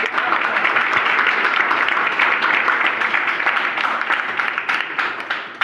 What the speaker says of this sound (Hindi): ताली बजा दो जी